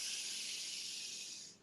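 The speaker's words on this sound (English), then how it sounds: "make the longest exhale that you can" A long, deep exhale through the mouth during a breathing exercise, a soft, airy hiss that holds steady for over a second then tapers off, close and quiet with no talk.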